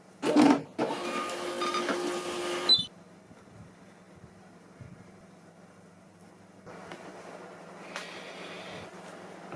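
An Xprinter XP-420B thermal label printer printing over Bluetooth gives a loud, steady mechanical whir for about two seconds, then stops abruptly, leaving faint room hum.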